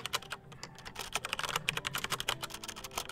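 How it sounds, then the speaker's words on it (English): Rapid typing on a computer keyboard during a live stream, close and clattery, with irregular bursts of sharp key clicks and brief pauses, no voices. "keyboard doesn't sound too great in your ears"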